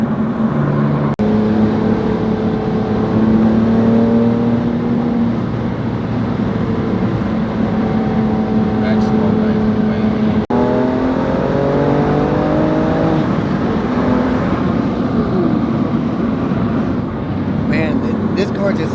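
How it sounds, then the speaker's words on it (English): A BMW M2 Competition F87 engine drones and revs close by, with steady tonal pitch changes as it climbs and eases, broken by a couple of sharp pops; the engine carries on throughout. "Man, this car just sounds so amazing."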